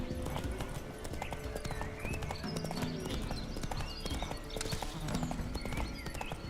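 Hooves of the horse Roach clip-clop rapidly in a video game, a dense, loud galloping patter that continues without a break.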